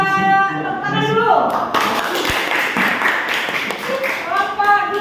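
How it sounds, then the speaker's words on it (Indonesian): A classroom audience gives a short burst of clapping that swells for a few seconds between stretches of a teacher's speech. "tepuk tangan dulu."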